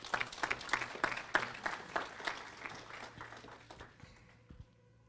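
Audience applause for a volunteer family at a gathering, a moderately faint burst of many overlapping claps that gradually tapers off over about four seconds before fading to near silence.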